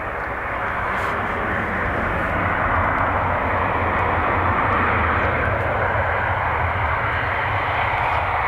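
A Ryanair airliner from Manchester comes in to land at Dublin Airport, a continuous loud engine rumble and rushing whine that builds a little mid-way and stays steady, heard alone without voices.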